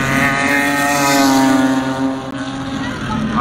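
Racing cars, including a BMW and a Volvo, howl past on a circuit during a race, a loud sustained engine drone with steady tonal harmonics, close by and continuous with faint commentary underneath.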